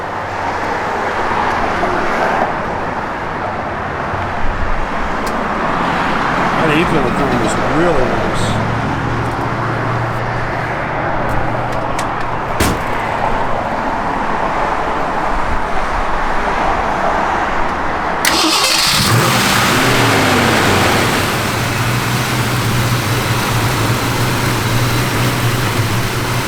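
A 1967 Ford Mustang GT engine rumbles steadily at close range, with a brief surge partway through and a louder rev near the end, while someone talks over the running motor.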